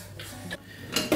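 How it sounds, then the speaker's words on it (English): A rubber spatula stirs butter into mashed potatoes, giving soft close scrapes and light knocks against the pot that end in a couple of sharper clinks. "You just keep stirring it till the butter is completely melted and absorbed in the mash"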